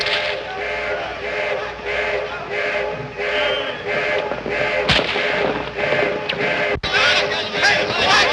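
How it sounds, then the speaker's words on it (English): Gunfire in a 1931 classic western film set in the painted desert, a couple of sharp cracks cutting through a busy, continuous background of music or crowd noise, with a louder report near the end. "What's that? Somebody else shooting?"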